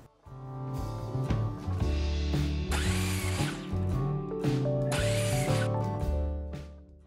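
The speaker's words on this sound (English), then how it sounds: "I drilled 3/4 inch deep holes in the legs with a paddle bit" A power drill drives a paddle bit into 2x4 ladder legs, boring 3/4 inch deep holes for dowel rungs; loud steady whirring with two rising bursts of cutting noise, no talking.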